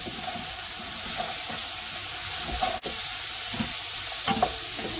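Rice and carrots are stirred in a pot over a soft sizzle, with scraping and clinks from the spoon against the pot, fairly quiet and steady, no voices.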